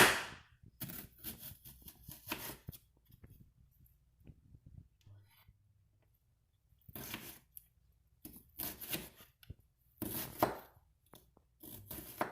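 Knife chopping an onion into small pieces on a board for pico de gallo: quick clusters of crisp knocking cuts, separated by pauses with faint handling sounds.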